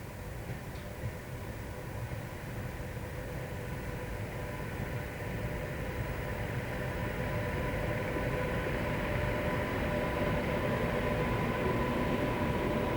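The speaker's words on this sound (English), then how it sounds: "Here a pair of 86s work the Crewe to Ipswich freightliner." A pair of class 86 electric locomotives hauls a Crewe to Ipswich freightliner train, a faint, steady rail rumble that swells slightly louder as it draws nearer.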